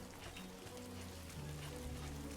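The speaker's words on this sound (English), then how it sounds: "Oh, those rain particle effects." Rain falls steadily in the video game Death Stranding 2, a soft, even patter on surfaces with faint low hum beneath, no talking.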